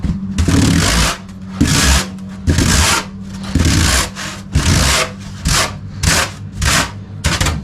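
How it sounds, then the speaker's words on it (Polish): Repeated scraping of an APU window trim strip, about ten broadband strokes in a steady back-and-forth rhythm, close and fairly loud with short gaps between passes. "No to, to by trzeba było tutaj przyskrobać. Więc jadę i skrobię."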